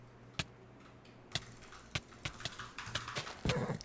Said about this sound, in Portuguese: Ó o cavalinho, galera.